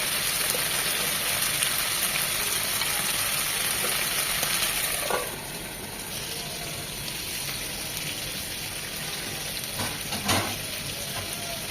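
Beef shik kebabs fry in a pan with a steady, close sizzle and crackle that eases slightly partway through, with a few soft scraping turns and no talking.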